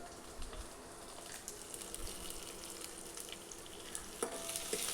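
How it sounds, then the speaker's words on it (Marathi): Onions sautéed in a pan: a quiet, steady frying hiss with occasional stirring scrapes and small crackles, fairly faint and close, with no talking. "कांदा असं मस्त परतून घ्यायचा आहे"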